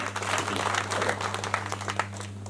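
A small gathering at a home mass claps for a speaker, producing steady, moderate applause from a close group. The clapping runs through the whole moment over a low electrical hum.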